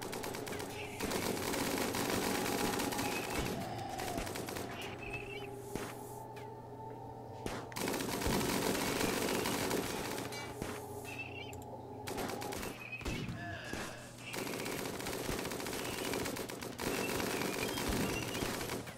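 Automatic and single gunfire from a RimWorld battle, with rapid bursts and dense thuds running through most of the stretch, broken by brief quieter gaps, under steady game sound.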